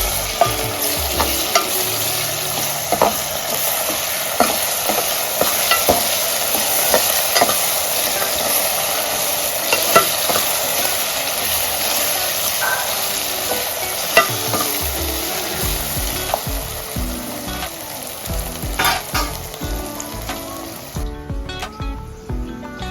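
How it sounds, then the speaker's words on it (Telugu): Ginger garlic paste, about a spoonful, frying in oil for palak paneer, with a steady loud sizzle and frequent scraping stir strokes throughout, dying away near the end. "1 స్పూన్ అల్లం వెల్లిపాయ పేస్ట్ మంచిగా ఆయిల్లో ఫ్రై కావాలి."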